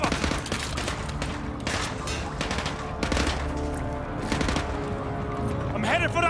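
Dense automatic gunfire and explosions from the Call of Duty Modern Warfare Remastered Gulag mission near Petropavlovsk, Russia, rattle loud and steady throughout, with shouted voices mixed in.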